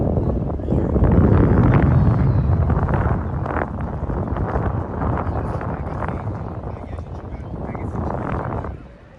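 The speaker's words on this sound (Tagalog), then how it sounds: "Kaya lang malakas ang hangin." Strong wind buffets the microphone at a seaside beach, a loud continuous low rumble with gusts that swell and ease, while people talk beneath it.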